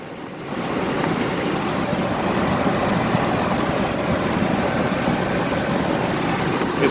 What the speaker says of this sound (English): we're driving down the highway